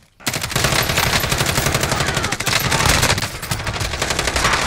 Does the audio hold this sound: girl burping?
no